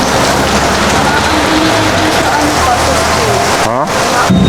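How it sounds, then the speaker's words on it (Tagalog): Heavy rain pours down in a dense, loud, continuous roar, with faint voices murmuring underneath. "Lakas ng ulan."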